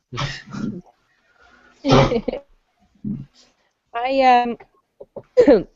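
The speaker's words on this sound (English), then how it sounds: "Sorry, I'm just coughing again." Several sharp coughs in separate bursts, close to the microphone, with a throat-clearing sound and a brief squeaky vocal noise between them.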